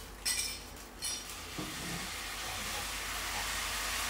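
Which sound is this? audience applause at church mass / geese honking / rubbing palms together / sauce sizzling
sauce sizzling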